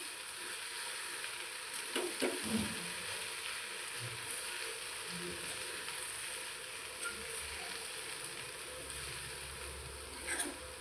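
Poha being stirred in a frying pan for a spicy breakfast dish, giving a soft steady sizzle with faint scraping and a few light clinks of the spoon, fairly quiet and continuous.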